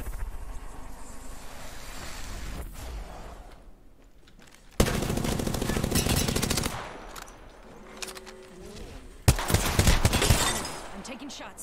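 Loud bursts of automatic gunfire in the battle royale shooter Apex Legends, two dense rapid volleys a few seconds apart over ambient wind and game noise, with a voice talking in between.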